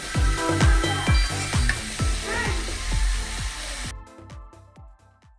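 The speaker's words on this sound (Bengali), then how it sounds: "কচুরলতিগুলো দিয়ে দিতে হবে তারপরে ভালোভাবে নেড়ে নিতে হবে" Taro stolons and prawns sizzle loudly in a pan while being stirred, with a rapid series of scraping utensil strokes over the steady frying hiss, which drops away near the end.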